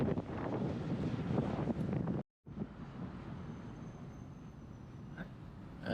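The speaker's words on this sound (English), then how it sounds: "when the breeze comes through, it's full breeze" Breeze rushing past while riding around Accra, Ghana, heard as continuous wind buffeting the microphone with a brief dropout partway through, then steady blowing again.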